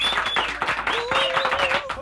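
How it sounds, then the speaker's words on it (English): Studio audience at a morning radio show broadcast applauds warmly for an arriving guest, a steady wash of clapping with some cheering tones over it, moderately loud throughout. "big round of applause for welcome"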